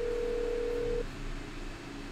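Phone in the game That's Not My Neighbor, a single steady electronic tone held for about a second before cutting off, faint and alone over a low background hum.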